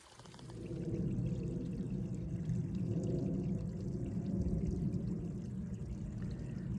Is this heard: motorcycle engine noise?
no